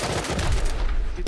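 An auto turret opens fire in the survival game Rust with a burst of rapid, loud gunshots. A brief sharp shot cuts in again at the end.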